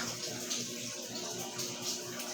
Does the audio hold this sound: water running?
yes